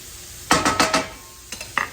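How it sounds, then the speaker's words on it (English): Beans coated in bacon grease get stirred in a hot pan: four quick scraping strokes, a short pause, then two more, each over a soft sizzle. "once you get them nice and evenly coated with the bacon grease"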